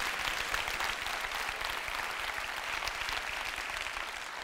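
A comedy-show audience applauds steadily throughout, a dense, sustained wash of clapping with no pauses and no talking over it.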